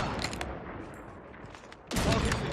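SPR rifle fire in a ranked Nuke shooter match: scattered sharp cracks over steady game noise, then a loud, sustained burst of gunfire near the end.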